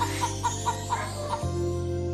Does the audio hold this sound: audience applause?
no